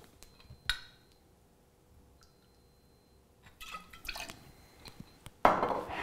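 Lime juice trickles into a metal jigger for a cocktail, with a faint clink early on, a brief splashy pour later and a louder liquid rush at the end, close and quiet.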